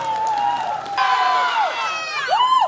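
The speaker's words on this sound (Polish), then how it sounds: "Ogromne brawa!" Audience at a fair concert of a Polish disco band cheers and whoops, crowd noise swelling under a loud amplified voice with rising, sliding tones across the short stretch.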